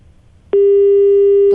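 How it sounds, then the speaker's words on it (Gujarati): A phone line clicks off and a steady electronic busy tone follows, loud and continuous for about a second after a call is cut, with a short burst of pulsed sound at the end. "રાજેશભાઈ આપણો ફોન કાપી નાખ્યો છે"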